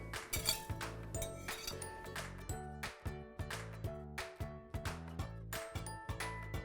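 Scrambled eggs are stirred slowly in a pan, with a utensil tapping and clinking against the metal in a steady, rhythmic run of bright clicks, soft and close.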